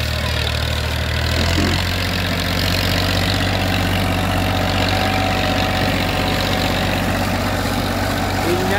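A tractor diesel engine idles close by on a farm, a steady loud rumble with a rhythmic low knock that continues unchanged throughout, with faint voices briefly underneath.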